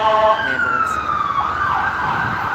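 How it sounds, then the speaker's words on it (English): Ambulance siren wailing loud and close, its tone sweeping steadily downward and rising again over about two and a half seconds, heard alone with no voices over it. "ambulance."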